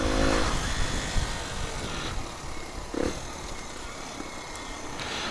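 Sinnis Apache 125 motorcycle fitted with a DEP exhaust system and upgraded jet, its engine droning loudly nearby with brief rev surges.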